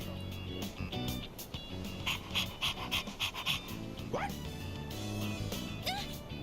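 A dog pants steadily through the scene in the video game Persona 3 Reload, its quick breaths sitting under game music and other effects, with faint whimpering at moments.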